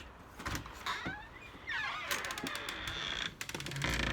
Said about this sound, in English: Electric garage door opener included.